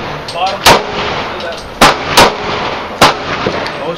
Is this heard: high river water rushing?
no